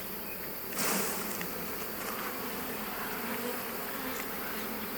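Honeybees buzz in a dense, steady drone as they are shaken off a hive frame during a swarm-cell inspection, with a brief louder burst of wings near the start and no voices.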